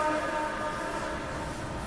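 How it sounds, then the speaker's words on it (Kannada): A goods train passes alongside the Bharat Gaurav tourist train, a steady, moderately faint rolling rumble with no clear pauses, heard from inside a carriage. "ಇಲ್ಲಿ ಯಾವುದೋ ಟ್ರೈನ್ ಕ್ರಾಸಿಂಗ್ ಬಂತು"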